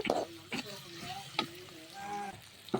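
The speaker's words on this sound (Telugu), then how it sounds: "ఈ అల్లం వెల్లుల్లి పేస్ట్ పచ్చివాసన పోయేంత వరకు అయితే ఫ్రై చేసుకోవాలి" Ginger garlic paste and tomatoes fry quietly in a pan over a wood-fired stove, a soft sizzle with brief stirring scrapes, while a voice can be heard faintly.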